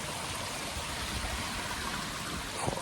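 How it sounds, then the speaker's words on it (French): Small waterfalls in a Hautes-Alpes stream rush and trickle in a steady, close, full wash of water that never lets up, with no talking over it. "Regarde, des petites cascades et tout."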